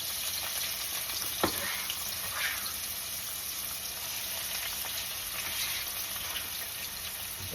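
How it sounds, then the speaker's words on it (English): Artichoke sautéing in a pan over lowered heat, a steady soft sizzle that runs throughout with one sharp clink near the start, fairly close and even, no voices. "So now I'm gonna lower the heat and throw in the artichoke."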